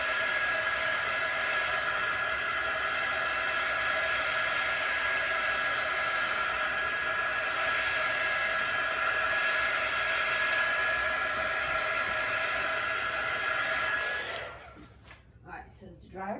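A dryer blows a loud, steady whooshing stream of air over a chalk transfer for about fourteen seconds, then cuts off abruptly, leaving brief quiet handling noises.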